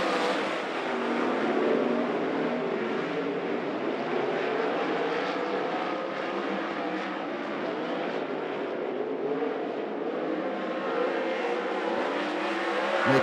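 A pack of 410 sprint cars racing around a dirt track, their engines roaring in a dense, continuous drone that swells and wavers as cars pass, loud and steady for over thirteen seconds.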